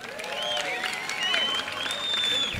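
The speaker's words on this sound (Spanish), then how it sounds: "dale un aplauso a mi amigo aquí que está aquí" Audience applause from a crowd at a live talk, a steady wash of clapping that stays fairly loud for the whole stretch, mixed with scattered voices.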